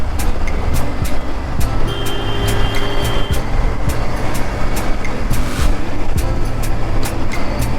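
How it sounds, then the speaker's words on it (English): Busy city road traffic in Ahmedabad, India: a steady loud wash of cars, trucks and buses passing close by, with horn tones and scattered clanks over the constant roar. "So the traffic is typical in Ahmedabad."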